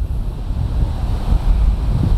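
Strong wind buffets the outdoor flight of a DJI Spark drone carrying a Xiaomi Mijia Mi Sphere camera on top, a steady low roaring rush that fills the whole stretch without pause.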